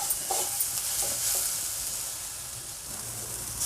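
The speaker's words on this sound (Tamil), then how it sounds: "அது கூடவே துருவி வச்சுருக்கிற நம்ம வாழைக்காயை போட்டு நல்லா வதக்கி எடுத்துக்கலாம்." Grated raw plantain sautés with salt in a pan for Thirunelveli-style vazhakkai puttu, giving a steady hissing sizzle broken by a few soft scraping stirs, close and continuous, with no voices.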